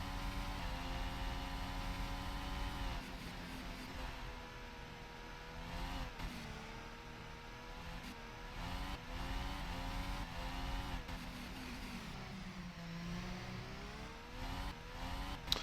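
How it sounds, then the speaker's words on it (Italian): A high, continuous Mercedes Formula 1 engine scream in a video game's Monaco 2016 Grand Prix, rising and falling with gear shifts, sustained and loud throughout with no talking. "Sentiamo il rombo del motore Mercedes."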